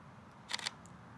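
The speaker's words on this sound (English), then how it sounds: "And every time I change my shutter speed," A camera's shutter speed dial being turned, giving a quick burst of three or four faint mechanical clicks close by in a quiet room.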